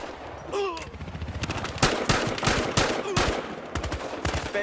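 Gunfire rattles through a multiplayer match of the shooter Battlefield Hardline, with rapid machine-gun bursts and single cracking shots repeating in quick, uneven volleys.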